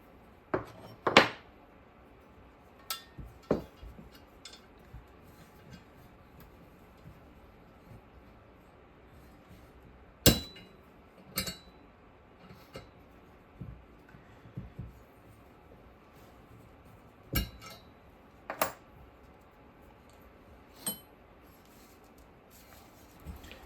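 Hammer striking a metal punch during an arcade stick build, a dozen or so sharp isolated knocks at irregular intervals over faint handling and workshop noise.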